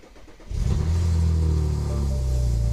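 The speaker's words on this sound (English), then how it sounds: "So the motor sounds pretty healthy." A modified BMW 335i E90 engine with blown turbos cranks and catches after a half-second, then settles into a loud, steady idle with a deep rumbling hum.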